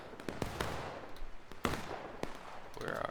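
Cannon and artillery fire in the War of Rights Civil War video game, set on the Antietam map, heard as scattered sharp booms and cracks at irregular intervals, some near and some distant, over battlefield noise.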